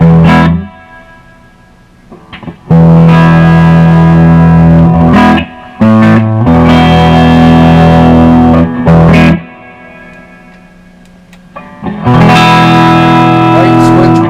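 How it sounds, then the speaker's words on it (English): Electric guitar through a Fender Blues Deluxe amp with filter capacitor trouble, played in loud chord bursts with reverb tails ringing out between them, separated by brief quiet gaps. "the reverb works"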